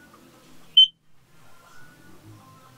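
A combined carbon monoxide and fire alarm gives a single short, high beep in an otherwise quiet room.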